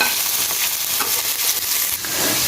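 Chopped onions fry in a little oil in a kadhai, giving a steady, close crackling sizzle with light stirring scrapes throughout and no talking.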